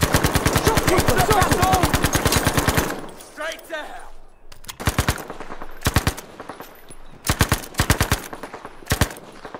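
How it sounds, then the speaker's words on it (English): A German machine gun in a video game fires a long, sharp automatic burst of crackling gunfire, then a pause with a metallic reload clatter, followed by several short, punchy bursts. "a German machine gun, makes a cracking sound"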